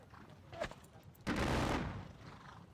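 A loud ragged volley of musket fire from grenadiers in a Napoleonic war video game, preceded by a few scattered single shots, the massed discharge rolling out over about half a second, with no talk.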